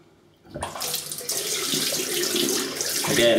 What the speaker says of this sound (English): just to make sure the water gets underneath